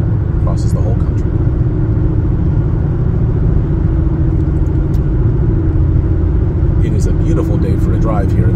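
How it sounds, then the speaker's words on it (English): A car drives along a road in Western Maryland, a loud, steady low engine and tyre rumble that fills the whole stretch, with a voice talking over it. "Beautiful day for a drive here in Western Maryland."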